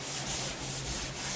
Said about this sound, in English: Now you color sand it.